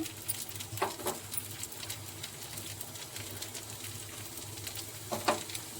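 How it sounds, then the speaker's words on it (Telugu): Cumin seeds fry in a spoonful of oil in a kadai, giving a faint, steady sizzle with scattered crackles and small pops. "ఒక కళాయి అయితే పెట్టుకున్నాను దానిలో వన్ స్పూన్ ఆయిల్ వేసుకొని వన్ స్పూన్ జీలకర్ర"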